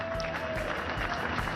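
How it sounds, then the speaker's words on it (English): Spectators at a cricket match applaud batsman Chris Gayle as he reaches 150 runs. A steady, moderately loud wash of clapping from the stands carries on without a break. "there's the applause for him"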